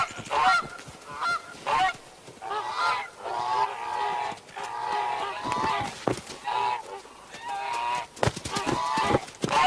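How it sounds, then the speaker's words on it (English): Rowdy Canada geese, males among them, honk repeatedly in loud, irregular bursts that overlap and carry close by at the end of winter in Yellowstone, with brief gaps between calls. "Canada geese, including more rowdy males."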